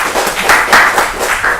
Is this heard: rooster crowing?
no